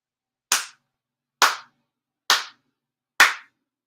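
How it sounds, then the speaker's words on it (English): Four crisp ritual hand claps at a Shinto prayer service ring out one at a time, evenly spaced about a second apart, each sharp and close with a short decay in an otherwise silent room. "4 sincere claps."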